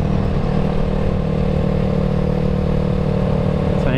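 A Yamaha YZF R3 motorcycle ridden through local streets, its engine a loud, close, constant buzzing drone heard steadily from start to finish.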